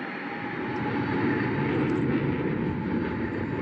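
Steady, loud roar of a Roblox aircraft's engines taking off, a continuous broadband rumble and whoosh with no voices.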